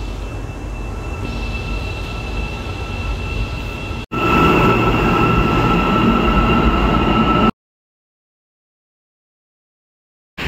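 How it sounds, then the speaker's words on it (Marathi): A metro train pulls into a station in Almaty, Kazakhstan, with a loud, close rumble and rail hum that swells midway, then cuts abruptly to silence. "आता आम्ही चाललो आता इथल्या स्टेशनवरून, आली मेट्रो."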